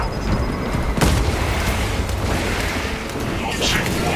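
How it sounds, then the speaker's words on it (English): Shock grenade detonating in Warhammer 40,000: Space Marine 2, a sharp burst near the one-second mark followed by sustained rumbling battle noise and a crackling electric tail toward the end, with a voice speaking over the din. "shock grenade out."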